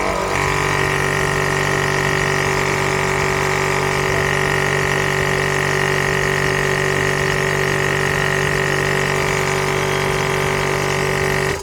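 A high-pressure air compressor runs continuously after being switched on, giving a loud, steady mechanical whine with a fixed hum and buzz at close range that cuts off abruptly at the end.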